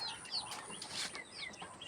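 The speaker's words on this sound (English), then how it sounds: "5 days old chicken" Five-day-old chicks raised for poultry give off a steady stream of high, thin peeps and chirps, fairly quiet and continuous across the clip with no talking.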